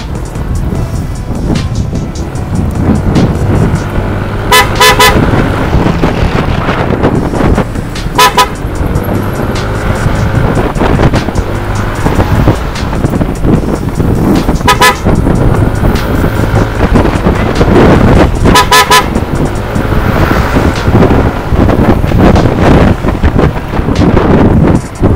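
Short horn toots from a Yamaha NMAX 155 scooter sound several times in bursts over loud wind and a rumbling vehicle, some as quick double or triple honks.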